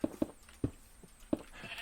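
Sheep bleating in the Minecraft video game, several short separate calls spaced irregularly, close and clear with no talk over them.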